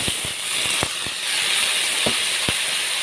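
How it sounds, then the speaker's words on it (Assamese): Water poured into a hot frying pan of half-fried fish heads, a continuous steamy hiss with scattered sharp knocks and clinks of utensils against the pan, close and fairly loud. "ইয়াত দি দিম মই 1 কাপমান পানী,"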